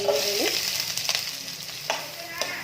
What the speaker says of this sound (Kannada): ಸಾಸಿವೆ ಹಾಕಿ ಸಿಡಿಸ್ಕೊಳ್ಳೋಣ.